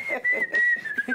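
A person whistles a short tune, a clear, bright, fairly close whistle lasting about a second with no talking.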